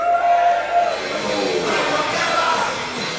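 A football crowd at a Coventry United versus Sporting Khalsa match lets out a broad, sustained roar of cheering, steady and fairly loud throughout.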